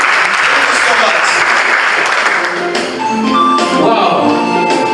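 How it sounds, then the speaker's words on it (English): Loud, dense applause from an audience at a student association handover and inauguration ceremony follows a speech, then fades as a voice and a few musical tones come in near the end. "Ladies and gentlemen, another round of applause to President Asita."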